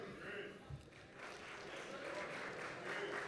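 An audience at a college athletics awards ceremony applauds honored athletes, a steady, moderately faint patter of clapping with a soft thump near the start.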